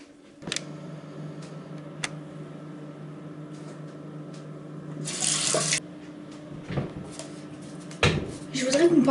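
A water tap gushes in a short burst while someone washes, set among clinks, knocks and faint background voices, with a steady low hum underneath.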